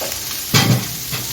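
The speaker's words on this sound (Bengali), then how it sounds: "এখন আমি গ্যাসটা হাইতে রেখে বেঁধে বেঁধে সুপটা তৈরি করে নেব" Soup for vegetable spring roll filling being stirred in a pan over a high gas flame, a steady sizzle broken by one brief louder stirring scrape, close and fairly loud, no talking.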